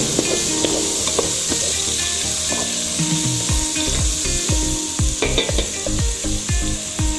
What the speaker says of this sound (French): Vous allez mettre le tout dedans et ensuite vous allez mélanger de nouveau.